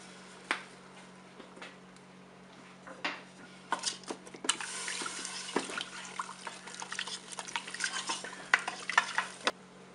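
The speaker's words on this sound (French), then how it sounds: "maintenant, je vais verser mon bouillon. Donc 100 ml de vin blanc, 300 ml d'eau et un cube de bouillon de bœuf émietté." A broth of white wine, water and a crumbled beef stock cube is poured into a Cookeo multicooker pot with chicken and potatoes, giving scattered splashes, trickles and utensil clinks that grow busier in the second half.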